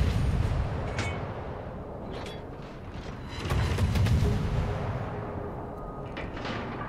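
Naval guns fire from a warship in a video game, a series of sharp cracks and thuds over a dense low rumble of battle, loud and fairly close, with no talking.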